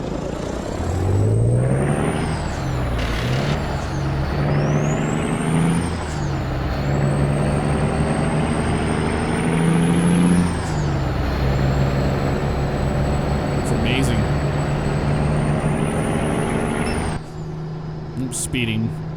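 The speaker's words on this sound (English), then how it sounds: "Let's listen to this engine on the outside view." A truck engine in American Truck Simulator drones loud and steady from outside the cab, shifting pitch as it revs through gears, with an air brake hiss near the end and someone talking over it.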